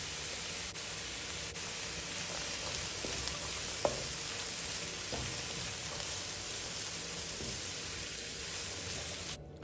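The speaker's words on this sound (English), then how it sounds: "So I added some scallion or spring onion, and stir and stir" Bacon fried rice with scallions sizzles steadily in a hot pan, a dense hiss broken by a few soft scrapes and clicks of stirring, close and continuous with no talking.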